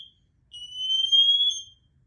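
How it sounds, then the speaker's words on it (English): An MSA G1 SCBA PASS alarm on firefighter breathing gear sounds a steady, loud high-pitched electronic tone for about a second after a brief chirp, then cuts off into silence. "2 pushes on the green button shuts the pass alarm off."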